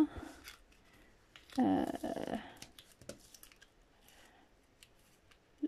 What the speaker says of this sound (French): si j'enlève mon washi tape, si j'y arrive